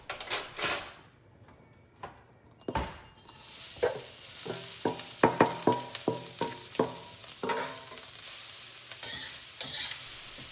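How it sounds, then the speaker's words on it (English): Carrots sizzle in hot oil in a wok as they are tossed and stirred, with a run of sharp scraping and clattering strokes in the middle, no voices. "I'm going to start with the carrots, adding some oil first and then the carrots, and I'll keep stirring them"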